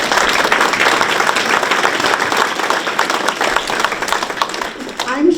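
A morning forum audience applauds visiting county guests: loud, dense clapping from a room full of people, sustained throughout and easing slightly toward the end, with some voices mixed in.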